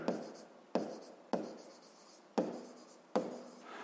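A pen writes out a polygon perimeter formula for a sixth-grade math exercise: five short, crisp scratching strokes, each starting sharply and trailing off, close and alone with no talk.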